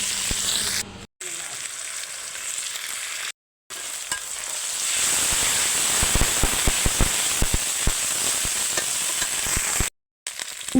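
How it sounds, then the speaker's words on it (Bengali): Garlic and ginger paste hitting hot oil over fried onion, bay leaf, cardamom and cinnamon in a pan, a loud close sizzle with sharp spattering crackles, interrupted by a few brief silent gaps. "রসুন আর আদা বাটা দিয়ে দিচ্ছে"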